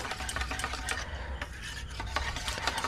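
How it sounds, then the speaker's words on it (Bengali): Amul milk powder is stirred into hot water, a soft continuous swishing and rubbing of a spoon in a container with faint scrapes, close and quiet. "গরম জলের সঙ্গে গুঁড়ো দুধটাকে খুব ভালোভাবে মিশিয়ে নিয়েছি"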